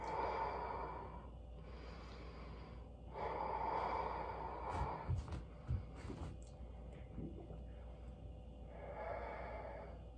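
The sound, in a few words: deep breathing, inhaling and exhaling during a workout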